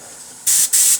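A Paasche H airbrush sprays paint in two short, sharp bursts of hiss close to the microphone, with a quiet lull before them.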